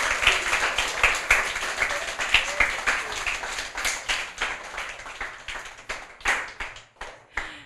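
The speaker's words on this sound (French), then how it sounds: "On applaudit très fort Marc pour sa petite lecture" Clapping from a small audience after a child's short book reading, individual hand claps distinct and uneven, in loose bursts that thin out and grow sparse toward the end.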